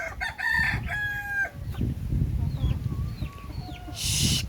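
A rooster crows with clucking hens around it, over a busy, rustling farmyard background; a brief sharp hiss near the end.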